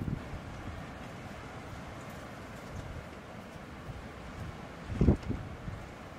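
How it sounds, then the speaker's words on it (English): Steady wind buffets the outside of an RV parked by a choppy sea in winter on Vancouver Island, a constant broadband rush with a brief louder gust near the end and no talk. "it's still pretty windy out there."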